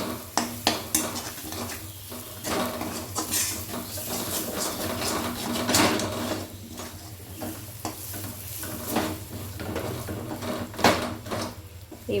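A metal spatula presses and stirs a fish and potato mixture frying in a pan, with steady sizzling under repeated scraping and tapping strokes.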